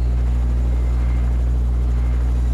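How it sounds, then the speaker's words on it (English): A helicopter in a video game drones steadily and loudly, a constant low rotor and engine hum holding without a break and with no talk over it. "Oh, wait, that's a helicopter."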